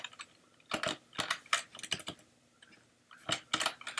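Keys clatter on a computer keyboard as someone types code. The strokes come in short, uneven clusters, close and fairly quiet, with gaps between bursts.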